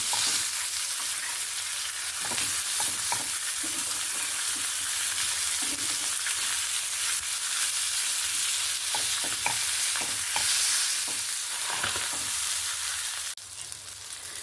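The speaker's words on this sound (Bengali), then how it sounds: "এরকমভাবে মাছটাকে ভেজে নিতে হবে।" Fish pieces frying in oil in a pan for a Punjabi-style fish curry, a steady close sizzle running throughout with scattered stirring clatters and light knocks of a utensil.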